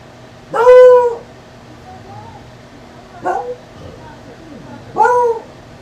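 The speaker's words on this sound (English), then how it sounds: "there's dogs barking" Dogs barking in a few separate bursts, each fairly loud and close, with quiet pauses between them and a low steady background hum.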